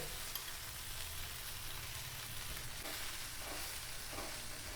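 Rava uttapam fries in ghee on a pan, making a faint, even, continuous sizzle heard close up and alone, with a few soft scraping touches near the end.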